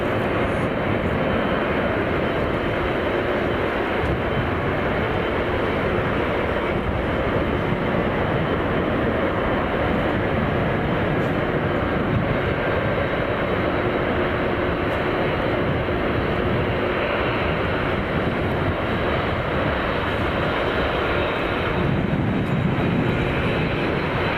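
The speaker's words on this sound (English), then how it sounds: "liking all these extra airport sounds" Steady, loud jet engine roar from aircraft at London Heathrow Airport, a continuous broadband rumble and whine holding at the same level throughout with no distinct breaks and no speech.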